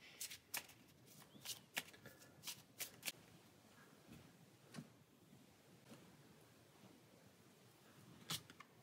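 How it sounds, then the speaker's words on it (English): Cards from a fantasy adventure card game are shuffled by hand, giving a series of quick, crisp riffling snaps in an irregular rhythm, fairly quiet and close. "So this will get shuffled back into our hourglass."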